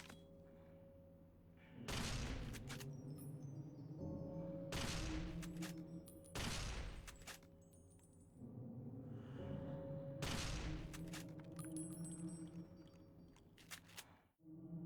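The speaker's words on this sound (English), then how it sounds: "Let's try the new and improved holo rifle." Holo rifle fire in a sci-fi game, four or five heavy, booming shots spaced a couple of seconds apart over a low, steady ambient hum, with no talking.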